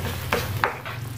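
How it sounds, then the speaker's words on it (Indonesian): Onion and garlic sauté in a pan with a low, steady sizzle, broken by a couple of soft scraping stirs from a utensil against the pan. "Kita tumis bawang bombay sama bawang putih."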